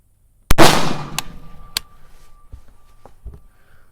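A single close, sharp rifle shot from an MK12 Mod 0 firing a 77 grain SMK handload, a loud crack with a ringing tail, followed by a few faint clicks and handling sounds.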